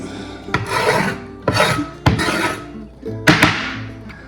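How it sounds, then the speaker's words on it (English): A knife scrapes pith and seeds out of a sweet banana pepper in four or five short, close, rasping strokes, each separated by a brief pause. "I do want to remove the pith and the seeds as much as I can."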